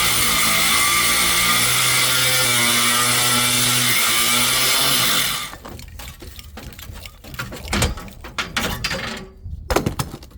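A power tool, likely a grinder, cuts the flanges off a metal tray in an RV with a loud, steady whining drone that stops abruptly, followed by clattering, scraping and handling noises.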